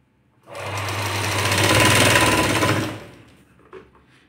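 A sewing machine runs in one continuous burst of fast, even stitching for about two and a half seconds on a blouse neck, close and loud, then stops, followed by a small click.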